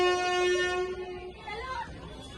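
A train horn sounds one long, steady, loud blast that fades out, and people are talking under it and after it.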